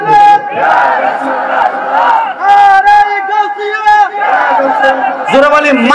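A large crowd at a Bengali religious sermon gathering loudly shouts takbir in unison, with long, strong, chant-like cries rising and falling in repeated waves close by.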